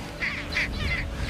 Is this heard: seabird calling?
yes